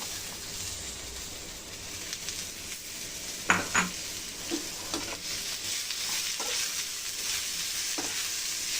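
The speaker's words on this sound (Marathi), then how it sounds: "नॉर्मली जरा टॅमॅटोचे साल निघेपर्यंतच भाजायचं" Tomatoes roast in a pan for a vegetable curry with a steady low sizzle throughout, plus a few soft clinks and scrapes of stirring, close and moderately quiet, with no voices.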